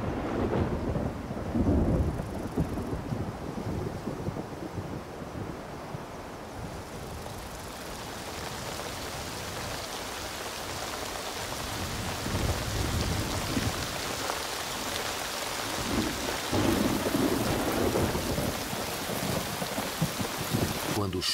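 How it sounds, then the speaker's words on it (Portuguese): Monsoon downpour over the desert with rolling thunder, steady hiss of heavy rain swelling and easing with deep low rumbles, continuous and fairly close, no talk. "As monções chegaram."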